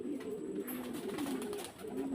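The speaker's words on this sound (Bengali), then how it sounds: "রেসিং কবুতর এমন একটা কবুতর, ওরা ভাষা বুঝে মানুষের।" Racing pigeons coo softly nearby in a steady, repeated low murmur, faint and unbroken, with no voices over it.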